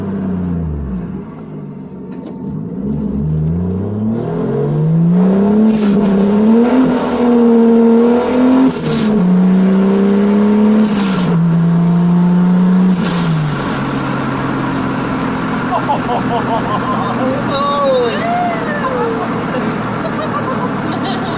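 Toyota MA70 Supra engine revs up hard on a hill climb, rising through the gears with turbo whoosh and a shift, loud inside the cabin while occupants talk over it.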